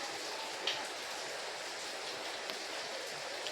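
Beetroot juice coming to a boil in a pan on a stove, a steady close hiss of fine bubbling and spitting, like light rain, with a couple of brief louder pops and no talking.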